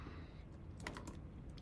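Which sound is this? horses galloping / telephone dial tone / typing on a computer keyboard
typing on a computer keyboard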